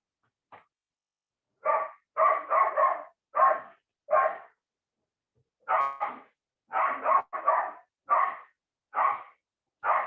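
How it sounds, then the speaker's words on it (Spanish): A neighbour's dog barks repeatedly in short bursts, some doubled or tripled, with brief pauses between them, at moderate distance and with no talk. "Perdónenme el perro del vecino."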